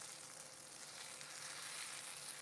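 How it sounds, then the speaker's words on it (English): Oyster mushrooms sear in a hot pan, producing a soft, even sizzle that stays steady and fairly faint for a couple of seconds with no other sounds. "We'll check the sear going on the oyster mushrooms."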